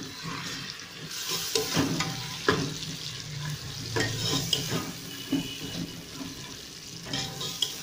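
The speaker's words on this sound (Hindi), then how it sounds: "टमाटर को हम तब तक भून लेंगे जब ये हमारे मसाले के अंदर नरम हो जाए।" Tomatoes frying with onion, ginger and garlic masala for aloo mutton shorba: a steady close sizzle with stirring scrapes and soft wet bubbling throughout, no talk.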